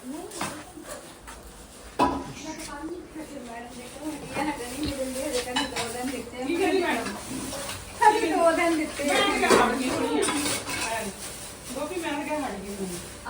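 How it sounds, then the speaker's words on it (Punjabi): Kitchen crockery and steel utensils clatter and clink as they are pulled out and stacked, with repeated bright metallic knocks scattered throughout while people talk over the handling. "ਅੱਜ ਭਾਂਡੇ ਬਾਹਰ ਕੱਢੂਗੇ ਸਾਰੇ"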